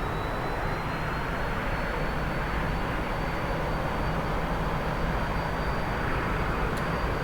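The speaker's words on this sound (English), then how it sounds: "In this case, I'm going around full power." T-45C jet engine at full power during a flight simulator go-around, a loud, steady roar with a thin high whine running through it.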